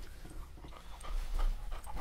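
A dog pants close by in steady quick breaths with a few faint whimpering noises, alone for about two seconds.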